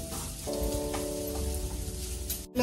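Bharangi bhaji being mixed in a pan, with a steady soft sizzle and stirring close up and a faint tonal hum in the background. A louder scrape comes at the very end, with no talking.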